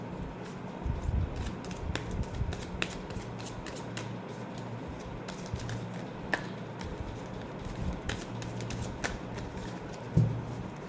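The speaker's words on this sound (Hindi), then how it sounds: "Last shuffle, then we will pull the cards" Tarot cards shuffled by hand in a steady, soft riffling patter with light flicks and taps, close by over a low background hum, ending in one firmer tap.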